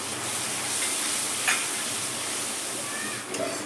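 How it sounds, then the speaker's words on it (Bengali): Garlic and tomato frying in oil as they are stirred, a steady close sizzle with light scraping and a small clatter midway, no voices. "টমেটোর জলটা পুরো শুকায়নি, সেই জন্য আমি এখনও নেড়ে যাচ্ছি"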